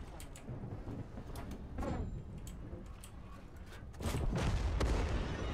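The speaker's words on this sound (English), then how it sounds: "The secondary guns are shooting me." Secondary guns fire in the World of Tanks video game as a series of faint, distant booms and cracks, with a heavier burst of shots toward the end.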